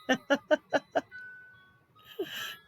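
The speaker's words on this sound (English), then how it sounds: "this clock because it chimes every hour for the entire month of December" Indoor clock chiming a tune on the hour in December, five clear evenly spaced bell notes followed by a sustained tone, then a brief voice and laugh at the end.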